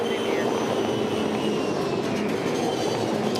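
A 2014 Supercars race car blazing past at Darwin's Triple Crown round, a loud sustained engine roar filling the whole moment with no break, as if close to the track.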